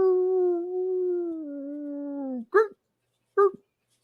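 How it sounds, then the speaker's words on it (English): A long, drawn-out howl echoing through sewers, sliding slowly downward in pitch over a couple of seconds, followed by two short, sharp yelping cries, fairly close and clear against silence. "He's wandering around and he hears a howling."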